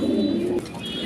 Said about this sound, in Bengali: এখানে আরেক পিস কবুতর দেখতেছি